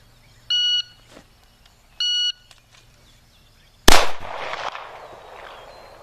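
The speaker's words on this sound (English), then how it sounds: "I brought the shot timer again." Two short electronic beeps from a shot timer during pistol draw drills with a SIG P6 from an outside-the-waistband holster, followed by a sharp loud gunshot with a decaying echo.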